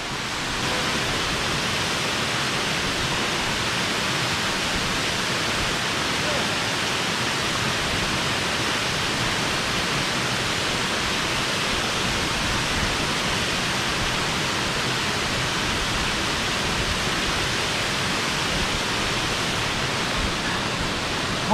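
Kozice waterfall in Bosnia, a steady, dense roar of rushing, falling water, loud and close, unbroken from start to finish with no voices.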